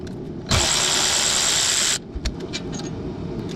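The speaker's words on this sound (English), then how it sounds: "We're gonna see if the electric ratchet will get it." An electric ratchet spins out a 13 mm bolt on an Audi A4 Quattro during front brake work, a loud, high whirring burst lasting about a second and a half, followed by small metallic clicks and handling noises, with no speech.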